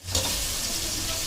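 Onions sautéing in oil in a pan for a Sunday lunch, giving a steady, close, loud sizzle and hiss that runs unbroken from start to finish with no talking.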